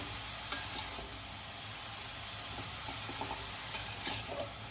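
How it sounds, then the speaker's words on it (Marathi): Grated carrot halwa being stirred and sautéed in a pan: a steady soft sizzle throughout, broken by a couple of light spoon taps against the metal, close but quiet, with no voices. "हलवा छान परतून घेऊ आपण"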